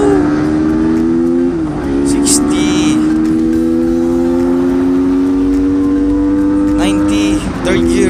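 A Honda Winner X 150 motorcycle accelerates hard, its engine whine rising in pitch, dipping briefly at a gear change, then climbing again, loud and close with steady wind rush.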